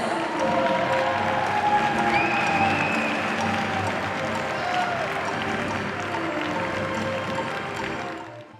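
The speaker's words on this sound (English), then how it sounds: "please give a warm round of applause for your athletes and umpires" Audience applause and cheering fill an arena after a para table tennis men's singles Class 2 final at the ASEAN Para Games, with sustained clapping that slowly fades toward the end.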